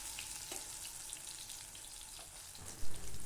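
Raw banana slices for a vegetarian fish fry sizzle softly in oil, a quiet, continuous crackle with a brief louder clatter near the end.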